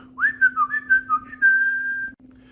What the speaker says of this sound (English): in this video I'm going to be showing you how to whistle